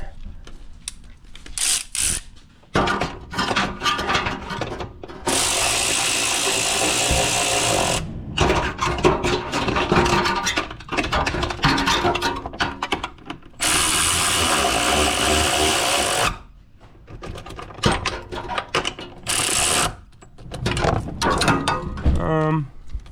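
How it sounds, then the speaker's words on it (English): Lug nuts go back onto a Nissan Altima wheel, with loud, busy mechanical ratcheting and clattering that run in long bursts and stop in short pauses throughout. "putting the nuts back on"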